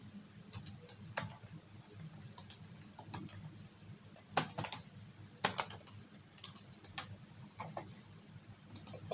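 Keys on a computer keyboard clatter in irregular bursts of quick clicks, with a few sharper, louder strokes standing out over a low steady background hum.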